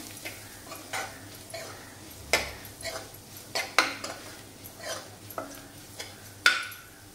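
Samosa filling with coriander being sautéed in a pan, a string of sharp spoon scrapes and clinks against metal in an uneven rhythm over a faint sizzle, close and clear.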